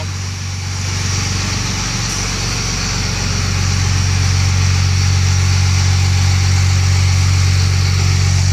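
A 2005 Ford F-350 pickup with a Cummins diesel engine and muffler idles steadily and close by, a deep, even rumble that grows slightly louder after the first second and holds without talk.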